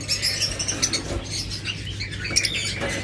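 Pair of lutino red-head opaline pet birds in a cage, giving faint, scattered high chirps and tweets with brief flutters against a steady background hum.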